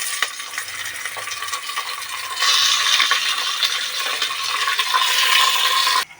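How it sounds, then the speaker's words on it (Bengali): Beef pieces fry with browned onions for a vegetable and beef biryani, giving a steady close sizzle that grows louder partway through, with occasional stirring scrapes and clinks. "পেঁয়াজটা লাল হয়ে গেলে মাংসগুলো এবার মধ্যে দিয়ে আমি কষিয়ে নেব"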